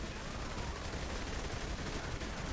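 Dense, continuous gunfire from a shotgun or submachine gun in the video game Saints Row 3, a sustained loud barrage of shots with no clear gaps and no talk.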